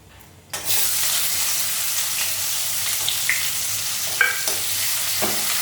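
Onion drops into hot oil tempered with black cumin seeds and bursts into a loud, steady sizzle after a short quiet start, with a few light stirring scrapes.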